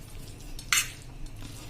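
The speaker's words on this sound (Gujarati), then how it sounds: "હવે આ બધું આપણે મિક્સ કરી લેશું" Boondi laddu mixture with chopped pistachios being stirred in a pan: one short, bright scraping swish in the middle, with quiet room noise around it and no talking.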